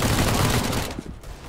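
Gunfire in a competitive video game match, a loud burst of rapid shots that then drops to quieter scattered sounds, with no talk.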